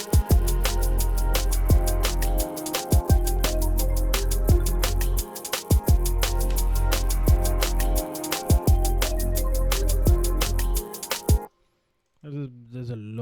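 Electronic breakdown track built on a main reverse sample layered with extra reverse textures and reverb, driven by steady punchy beats and sweeping swells for about eleven seconds before cutting to near silence.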